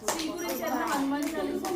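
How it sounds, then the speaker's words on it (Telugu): Brisk group hand clapping fills the moment, steady and close, mixed with children's voices and a sustained tone running underneath. "క్లాప్స్"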